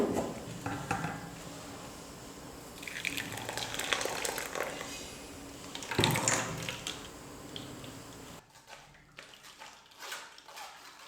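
Blended watermelon juice being strained, with wet sloshing and pouring through a strainer, scraping and clinking of a utensil against metal, uneven bursts close by, quieter toward the end.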